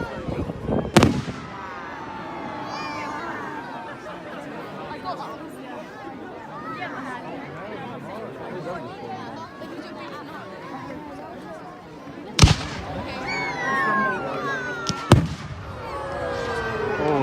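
Bonfire Night fireworks burst outdoors as a crowd chatters, with a loud sharp bang early, a busy stretch of crackling and whistling, then two more big booms near the end.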